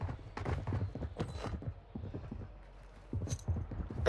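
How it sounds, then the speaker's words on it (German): Footsteps of an approaching player in a multiplayer shooter, a quick run of soft, close thuds in uneven bursts, pausing briefly midway before resuming, with no talk over them. "Ich glaube, ich habe gerade Steps gehört."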